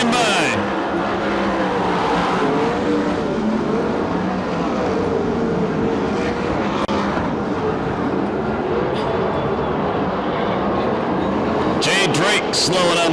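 USAC/CRA sprint cars roar around the oval at Perris, California, a loud, sustained engine drone with passing cars layered together, an announcer calling the race over the top.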